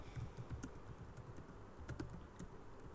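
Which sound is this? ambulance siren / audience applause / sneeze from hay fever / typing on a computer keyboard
typing on a computer keyboard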